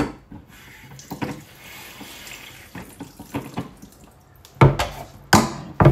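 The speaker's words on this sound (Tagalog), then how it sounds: "Tapos lagyan natin konting tubig." Water is poured into chicken adobo with oyster sauce in short splashy bursts, with quieter trickling and clinks between the louder pours near the end.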